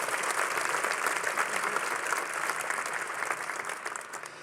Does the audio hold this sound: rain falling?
no